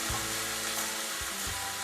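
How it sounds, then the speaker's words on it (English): Tomato paste frying in a pot for Hungarian goulash, a close, steady sizzle with a few soft scraping stirs. "I put about 2 tablespoons of tomato paste. And I fry that all around."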